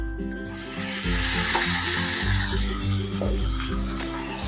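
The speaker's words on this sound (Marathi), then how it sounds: "आता आपण भाजी कढईमध्ये घालून घेऊयात" Fenugreek greens sizzle steadily in a hot wok, a continuous crackling hiss over a low droning tone.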